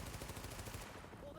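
Rapid automatic gunfire in the video game The Division, a fast burst of repeated shots that cuts off partway through, leaving a quieter tail.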